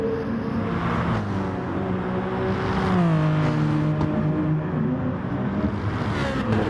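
Race cars lapping Brands Hatch in a racing video game: a continuous engine drone whose pitch climbs and falls through the corners, with other cars' engines layered close behind. No one talks.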